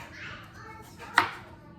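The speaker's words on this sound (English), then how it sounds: "These actually are chopping pretty easily." A kitchen knife cuts through a sweet potato during Thanksgiving meal prep, giving one sharp, close chop against a cutting board amid quiet background sounds.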